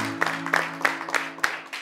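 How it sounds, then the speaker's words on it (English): Short burst of applause at a school spelling contest, a handful of scattered claps ringing out irregularly over a faint steady hum. "Another round of applause."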